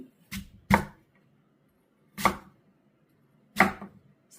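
A knife cuts through chicken pieces for a curry on a board, four sharp separate chops spaced unevenly with near silence between them, close and fairly loud.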